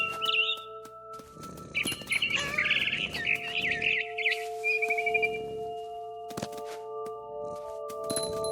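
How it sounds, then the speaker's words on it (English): Barn swallow in the video game What Remains of Edith Finch, with bursts of high chirping and twittering over a steady tonal game ambience, some sharp thuds between. "Then I heard chirping outside my window. It was a barn swallow going back to her nest."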